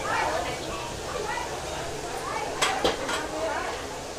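Pots, pans and utensils clatter and stir in a busy restaurant kitchen in Ben Tre, Vietnam, with sizzling frying and a couple of sharp metallic clinks, under steady background chatter.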